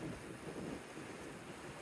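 Strong wind buffeting a microphone on a bikepacking ride in Portugal and Spain, a continuous low roaring rumble with no gaps.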